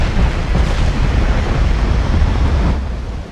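Incoming naval shells strike around a warship in the naval battle game Ultimate Admiral: Dreadnoughts, heard as a loud, continuous roaring rumble like crashing surf, easing slightly toward the end.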